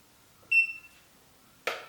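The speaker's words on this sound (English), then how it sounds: "I'm gonna get my phone and see how long that beep is." A hair waver gives a single short electronic beep that rings out clearly, followed moments later by a brief burst of hissing noise, in an otherwise quiet room.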